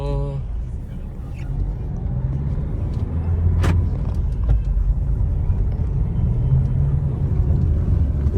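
A Jeep Compass cruising on the road, its steady low engine and tyre rumble continuous and close throughout, with a brief sharp knock partway through.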